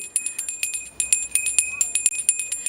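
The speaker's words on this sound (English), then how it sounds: "Fox 17 is in Holland to help ring the bells." A Salvation Army Red Kettle hand bell rings in quick, steady bursts, bright metallic clangs repeating close by without pause.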